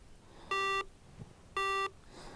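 Two short, high electronic beeps from a Skydio 2 drone controller, a second apart over faint background noise, moderately loud and evenly spaced.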